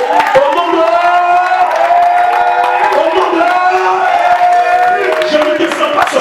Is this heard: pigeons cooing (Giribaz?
no